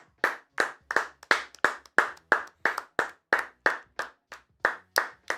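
A single person claps alone, about sixteen sharp, evenly spaced claps in a brisk steady rhythm, close and clear with silence between them.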